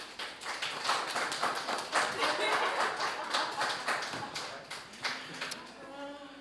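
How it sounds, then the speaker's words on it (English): An audience at a debate between government teams bursts into sustained applause, dense clapping from a crowd that holds steady for several seconds before thinning out as a tone and faint voices come through at the end. "A round of applause, please."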